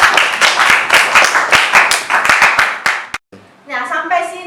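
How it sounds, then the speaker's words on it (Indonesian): A classroom of students claps in a quick rhythmic pattern, loud and close, for about three seconds before stopping abruptly; a voice briefly follows. "Tepuk tangan."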